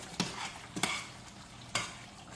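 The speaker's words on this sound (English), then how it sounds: "We're just going to let that simmer." Shrimp and sausage mixture with roux bubbling and sizzling steadily in a pot, with a few sharp spoon knocks against the side as it is stirred; close and fairly quiet, no talking.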